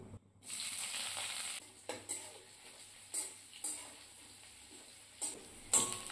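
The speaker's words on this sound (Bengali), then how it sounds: "ফোড়ন ভাজা হয়ে গেছে, পেঁয়াজ কুচিগুলো দিয়ে দিলাম।" Steady hissing sizzle of onions frying in hot oil, with a few sharp clinks and scrapes of stirring breaking through at intervals.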